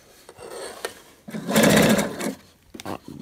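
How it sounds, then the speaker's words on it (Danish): A sewing machine stitches the side seam of a skirt with smocking elastic, whirring in a loud rapid burst that slows and stops, with short starts around it, close and with no talk. "Og så fortsætter vi vores sidesøm."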